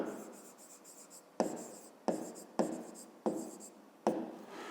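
A pen scratches measurements into a notebook for a fifth-grade math exercise: about six quick, crisp writing strokes in steady succession, close and clear, with no talking.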